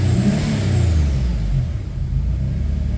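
Nissan Stagea M35 wagon engine, freshly tuned, held at steady revs while parked: a continuous close low rumble with slight rises, alone without talk.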